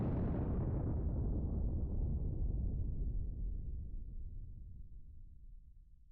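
Star Destroyer gun crews open fire in a Star Wars: Ascendancy space battle, a single deep booming blast whose heavy rumble rolls on and slowly fades over several seconds.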